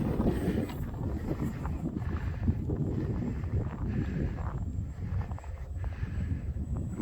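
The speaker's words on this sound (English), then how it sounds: "It's extremely windy." Strong wind gusts outdoors, a loud, rumbling roar that batters the microphone in uneven surges throughout.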